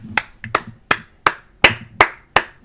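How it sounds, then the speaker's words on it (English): A single person clapping hands, eight sharp claps in a steady, slightly slow rhythm, close and fairly loud, with faint background sound between claps. "If you're in the stream, you have to get up and clap now"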